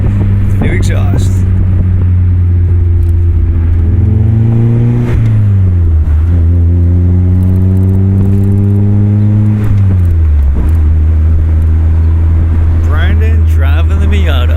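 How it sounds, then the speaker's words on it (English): A Mazda Miata fitted with a new ISR exhaust drives along with a steady, loud, droning engine note that rises and falls through gear changes, close and continuous. "The new exhaust."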